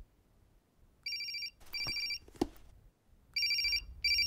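A telephone rings in repeated electronic bursts inside a home, each ring about half a second long with short gaps between them. A louder thump comes between two of the rings.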